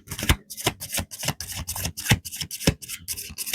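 Playing cards are shuffled in quick, rhythmic riffle bursts, about a dozen crisp rasping strokes in a row, close and clear with no talk.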